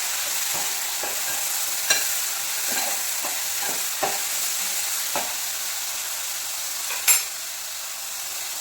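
Onions, green chillies and tomatoes sizzle steadily in a pan, a loud continuous fry broken by several scraping stirs and one sharper knock of the spoon against the pan near the end.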